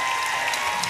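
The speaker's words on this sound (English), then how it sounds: "let's give her a nice round of applause one more time, Karen." Brief, dense audience applause at a talent show aboard the Carnival Ecstasy cruise ship, a steady crowd of clapping heard for under a second.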